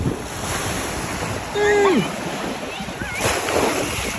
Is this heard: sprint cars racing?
no